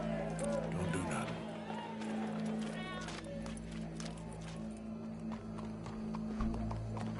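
Horse hooves clip-clop at a trotting pace amid crowd murmur and background music in the video game Red Dead Redemption 2, with voices talking over the scene.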